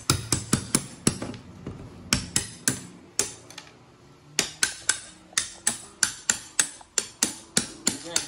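Hammer tapping at regular window glass set in an old wood window sash, a run of sharp close metallic knocks in quick rhythmic bursts, with a brief pause in the middle before the strikes resume.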